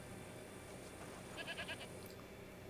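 A goat gives a brief, faint bleat of a few quick pulses, heard distantly under a steady ambient background in an outdoor fantasy setting.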